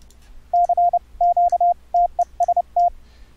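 Telephone keypad DTMF tones played back from a MeldaProduction plugin recorder on Linux, a quick clear sequence of about a dozen short beeps in uneven clusters, fairly loud and alone over a faint hum.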